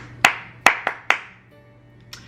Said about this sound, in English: To get their attention, I will do like a clapping sequence.